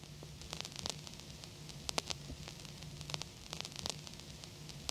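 Vinyl crackle sampled from an old record plays solo: faint, continuous surface hiss dotted with irregular small pops and clicks, with a low hum underneath.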